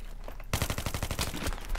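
Rapid automatic gunfire in Battlefield 3 during a Capture the Flag match on Nebandan Flats, a sustained burst of loud, closely spaced shots erupting after half a second of quieter game ambience.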